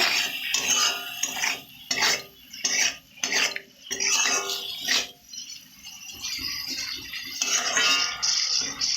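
Turmeric and spices sautéing in a pan while a spoon stirs, a series of close clinks and scrapes against the metal in bursts, with a soft sizzle between them.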